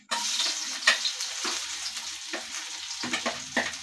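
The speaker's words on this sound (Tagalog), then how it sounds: "So atin na pong igigisa." Garlic sautéing in a hot pan for ginisang ampalaya with egg, a steady close sizzle and crackle with a few louder spatters and stirring scrapes, no talking.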